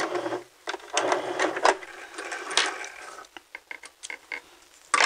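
A sewing machine back stitches in quick, loud mechanical bursts, stopping and starting close by with short pauses between runs.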